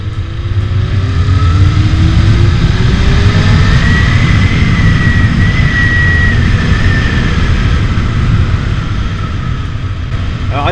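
Honda CBF 600 motorcycle engine pulling hard under acceleration in third gear, a loud, steady low roar with rising tone that stays close and continuous throughout.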